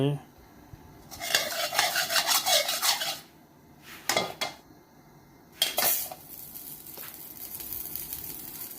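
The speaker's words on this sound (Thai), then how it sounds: "เอากระทะมาวางไว้" A metal wok is set down and scraped on a lit stovetop, with clanking, rasping bursts separated by short quiet pauses.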